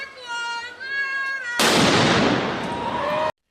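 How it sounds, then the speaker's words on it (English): A cherry bomb firecracker goes off with one sharp loud bang that washes into a long noisy roar before cutting off, following a steady tonal hum. "I mean, it's a pretty big firecracker."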